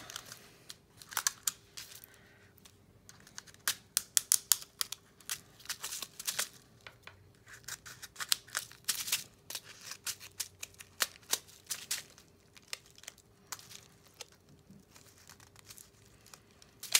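Clear packing tape being peeled from the plastic container of a small desktop fish tank makes quiet, crackly crinkles and short tearing bursts in an irregular rhythm, with no talk.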